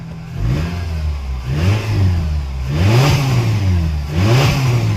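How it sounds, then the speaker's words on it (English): A 2009 Nissan Versa 1.8 L engine running with an exhaust leak, revved repeatedly in steady waves that rise and fall over a continuous close idle drone. "Engine is running."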